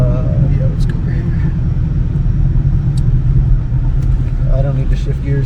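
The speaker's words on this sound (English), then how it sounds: "She is loud. It's like every V8 automatic." Ford Mustang GT V8 automatic engine rumbling loudly from inside the car while driving, a steady low drone that swells slightly, with voices talking over it.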